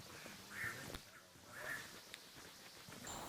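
A duck gives two short quacks close by, about a second apart, over a steady background hiss and faint knocks.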